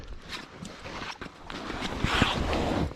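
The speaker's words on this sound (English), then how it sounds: "Really lightweight boat, small little engine on it." A small, lightweight boat with a small engine, heard as a steady low motor rumble with wind buffeting the microphone, growing slightly louder toward the end.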